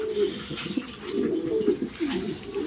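A pair of big Mondain pigeons coo continuously up close, low rolling calls overlapping with no pauses and no talking.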